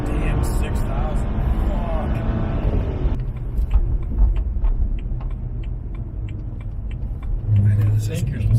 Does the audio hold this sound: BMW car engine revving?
yes